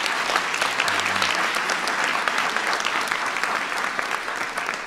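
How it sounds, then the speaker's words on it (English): Big round of audience applause at the White House Science Fair, a loud, sustained wash of clapping from a large crowd that holds steady throughout, with a brief low voice in the background. "Give Oracle a big round of applause for that."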